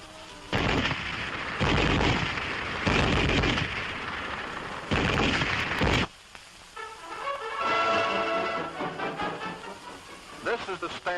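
A WWII small arm, linked to a German MG-34 machine gun in 7.92mm, fires in four loud, harsh bursts separated by short gaps, followed by quieter narration over a muffled background.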